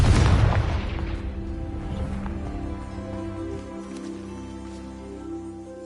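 A Confringo blasting spell in the Hogwarts Legacy video game bursts with one loud, booming explosion. Its rumble and ringing tail fade slowly over several seconds, with no talk over it.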